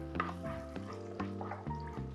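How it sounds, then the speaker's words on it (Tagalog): Ginger sautéing in hot oil in a wok for curry bihon, a soft sizzle under a humming background, broken by several quick scraping strokes of stirring. "And now I will saute my aromatics"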